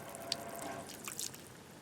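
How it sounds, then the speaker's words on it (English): Water drains from a tankless water heater's relief valve on a tiny home cabin RV, trickling and dripping steadily, a soft, fairly close splashing flow with a few louder droplets, and no voices. "now it's draining the water"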